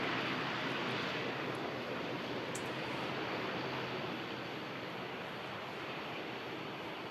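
A jet airliner taxiing on one engine at Manchester Airport gives a steady, loud roar at a distance, a broad constant rush without pauses or voices.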